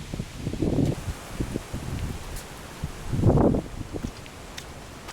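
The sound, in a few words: wind blowing by a lake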